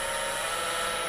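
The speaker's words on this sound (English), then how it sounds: "Now that whirring noise you're hearing is the live center here." A wood lathe's live center spins with a steady, bright, high-pitched whirring, constant and close, with no other sounds.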